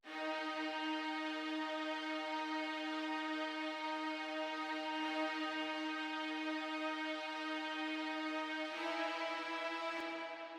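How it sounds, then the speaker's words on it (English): A single sampled violin note from the Lifetime violin preset in the Nexus software synth is held steady for about ten seconds, rich and even, with a slight change in tone near the end. "the Lifetime violin out of Nexus"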